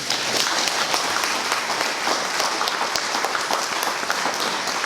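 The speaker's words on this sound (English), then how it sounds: "Let's give them a big round of applause also." An audience at a community proclamation event for National Parent Leadership Month in the CNMI breaks into sustained, dense applause, a steady wash of many hands clapping at close range for the full length.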